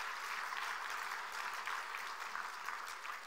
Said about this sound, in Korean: 자, 여기 모인 우리 모두를 위해서 함께 감사의 박수를 부탁드립니다